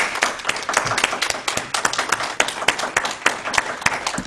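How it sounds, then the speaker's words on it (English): A church congregation at a Sunday service applauds Reverend June, a small group of close hand claps in a loose, fairly steady rhythm that carries on without pause. "Let's give Reverend June a round of applause."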